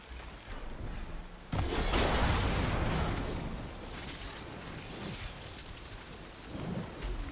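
A thunderstorm rolls through the video game Horizon Forbidden West: steady heavy rain hisses throughout, then a loud thunderclap breaks in and rumbles on before fading back under the downpour. No voices are heard.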